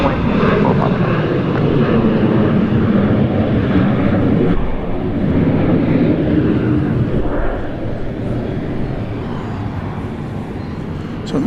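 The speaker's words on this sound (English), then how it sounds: "So now that that's up in the air, I can tell you that that's going to Santa Ana, California, an AirShare Embraer Phenom 300" An AirShare Embraer Phenom 300 business jet takes off from Dallas Love Field at night, a loud sustained engine roar close by that holds steady and eases slightly toward the end, with no voices over it.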